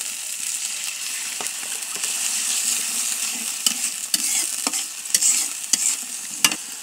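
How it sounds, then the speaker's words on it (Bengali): Ground spices for a potato curry fry and are stirred in a pan. A soft, even sizzle is punctuated by crisp spatula scrapes and clicks that grow more frequent toward the end, with no voices. "এখন আমি এগুলো একটু কষিয়ে নেব, একটু ভেজে নেব, যাতে মশলার কাঁচা গন্ধটা না থাকে।"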